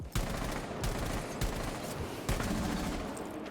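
Gunfire in Rainbow Six Siege covering the sound of an operator rappelling: sharp, loud shots repeat in uneven bursts every half second or so, close and continuous, with faint movement noise underneath.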